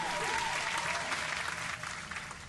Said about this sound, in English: let's give a round of applause for Ann Lowe